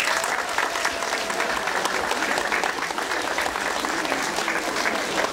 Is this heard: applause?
yes